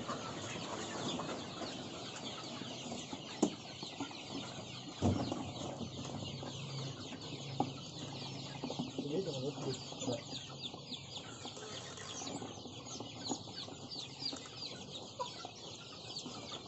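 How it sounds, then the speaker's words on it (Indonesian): Chicks cluck and peep continuously as they are moved into a brooding pen, a busy, fairly close flock sound with a few sharp knocks and handling bumps, no speech. "kita pindahkan anak ayamnya ke kandang brooding"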